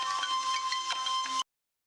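A phone rings with a short, steady electronic ringtone held for about a second and a half, then cuts off abruptly.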